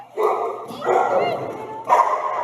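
Several dogs of mixed breeds, including a chocolate Labrador, at a group play session give about three short bursts of barking and yipping close by, with a voice talking over them.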